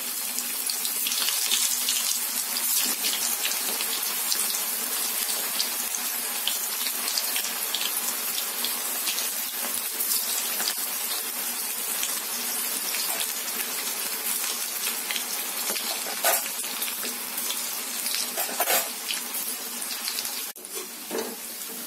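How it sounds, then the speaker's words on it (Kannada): Vegetable manchurian balls made with cabbage fry in hot oil, a close, steady, dense sizzling hiss that runs continuously with scattered small pops and no talking. "ಈಗ ಒಂದೊಂದು ಉಂಡೆಗಳನ್ನ ಹಾಕೊಂಡು ಚೆನ್ನಾಗಿ ಕರ್ಕೊಳ್ಳೋಣ."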